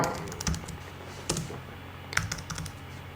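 Typing on a computer keyboard, close and fairly quiet, with a few scattered key clicks and short bursts of keystrokes spread unevenly over a few seconds against a low background hum, with no speech.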